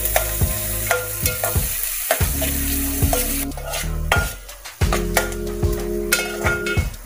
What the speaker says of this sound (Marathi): तेल तापलं की तुम्हाला कांदा ॲड करायचा त्याच्यात आणि मी 1 मोठा कांदा घेतलाय कापून।